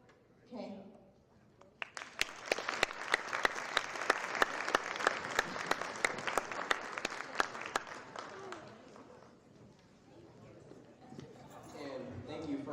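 An audience at a high school Black History Month assembly breaks into loud applause for about six seconds, with sharp individual claps standing out. The applause fades into murmuring, and a voice speaks at the start.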